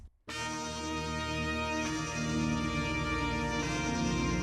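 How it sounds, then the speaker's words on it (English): Thick, sustained synth pads layered into a dense chord that swells in and holds steady, rich and loud with no voices. "we end up with like a total package of pads that sounds like this"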